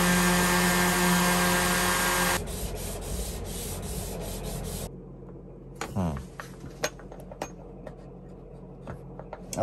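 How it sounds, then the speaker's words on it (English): Power sander working wood in a workshop while making a depth stop for a plough plane: a loud buzzing rub at the start, then softer scraping and clattering handling knocks as it winds down. "I'll probably just run it out of the sander actually."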